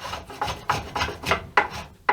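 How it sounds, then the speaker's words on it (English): Hand plane shaving wood while carving the neck joint of a scratch-built guitar, pulled against the usual direction: a series of about seven rasping, scraping strokes in a steady rhythm, close and fairly loud with no voices. "It's a little bit awkward planing in the wrong direction."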